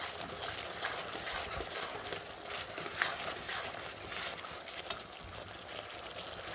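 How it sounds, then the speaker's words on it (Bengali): Spice paste fries in oil for a drumstick-stem chorchori, giving a low, steady sizzle nearby with faint stirring and a couple of brief clicks from the utensil. "এবার আরও সুন্দর করে আমি কষিয়ে নেব তেল ছেড়ে দেওয়া পর্যন্ত আমি কষাতে থাকবো"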